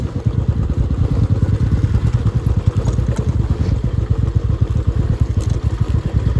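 Motorcycle riding on a mountain road in Ladakh between Sumur and Durbuk, a loud, close engine thrum with rapid pulsing beats and steady rumble, continuous throughout.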